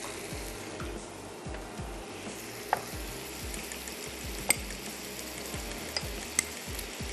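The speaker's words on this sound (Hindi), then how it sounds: "सिर्फ हमने मसाला भूनना है।" Masala fries in a pan with a soft, continuous sizzle, broken by light stirring scrapes and a few faint clinks, close but quiet.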